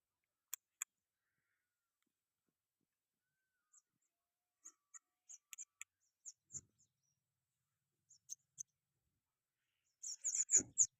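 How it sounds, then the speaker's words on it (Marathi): House sparrows chirp sporadically near a drumstick tree on a farm: scattered short, high tweets, single and in quick clusters, separated by quiet gaps, with a busier burst of chirping at the end. "ते चिमण्या चिव चिव चिव चिव करते"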